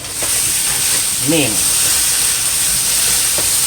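Curry potatoes with cumin fry and get stirred in a hot pan, a loud continuous close sizzle with scraping stir strokes, and a brief voice cuts in partway through.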